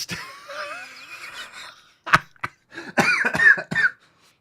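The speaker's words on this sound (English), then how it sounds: "coincidentally, I cough while I said it" Quiet, breathy sounds give way to a sharp cough burst from a smoker, then a raspy run of coughing and throaty wheezes, close and moderately loud.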